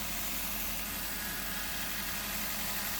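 A Suzuki Swift engine idles at a steady, even pitch with a faint continuous hiss over the top, close by and without speech.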